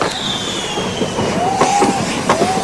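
Fireworks strapped to a bull bursting at a pyrotechnics festival, a dense, continuous crackle and hiss with sharper pops and whistling streaks rising through it, close and loud, with no pause across the whole stretch.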